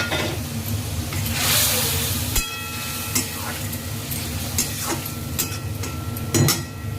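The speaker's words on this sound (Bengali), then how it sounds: "এবার আমি এর মধ্যে একটু টমেটো দিয়ে দেবো।" Tomato dropped into a hot pan of paneer masala sets off a steady, close sizzle and frying hiss, broken by a few scraping and clinking stirs.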